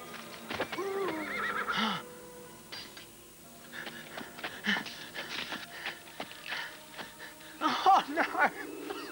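A horse neighs and whinnies repeatedly in an animated Soviet fairy-tale film, with loud calls rising and falling across the clip amid hoof-like clatter and other background sound, no talk.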